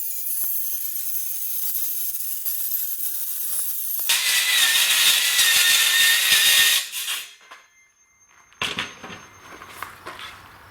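A saw meant for plywood cutting during fabrication of a custom doghouse and console: a loud, harsh burst of cutting noise runs for several seconds after a steady hum, then stops, followed by brief clattering.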